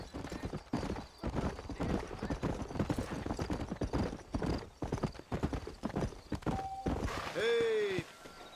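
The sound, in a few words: horses' hooves clip-clopping, Red Dead Redemption video game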